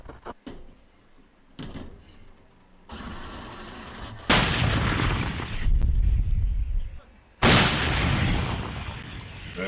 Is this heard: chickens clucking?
no